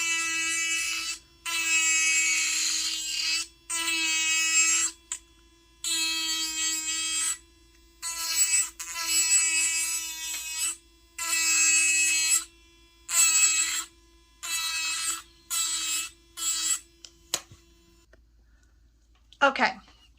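A MelodySusie Sparkle Plus nail e-file spins a carbide bit in forward motion, giving a high, thin whine that starts and stops in repeated bursts of a second or two, close and clear, with a quiet steady motor hum beneath.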